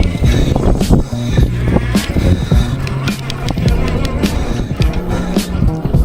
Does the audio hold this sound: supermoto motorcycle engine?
yes